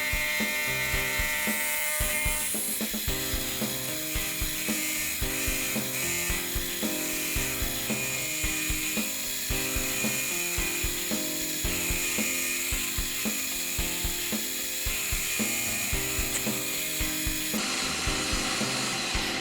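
A small lathe making plunge cuts on steel for a lathe carrier with a blunt tool, giving a loud, continuous grinding chatter with rapid rhythmic pulses that holds steady throughout, then a brief shift in tone near the end.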